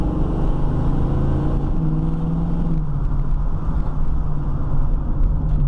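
A 1970 Ford Mustang coupe with an automatic gearbox accelerates and downshifts, its engine a loud, steady rumble heard from inside with a shift in pitch partway through.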